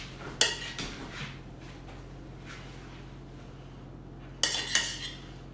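Metal tongs clink against a bowl while lifting pasta for carbonara, with a few sharp utensil clatters near the start and again near the end, quiet handling between.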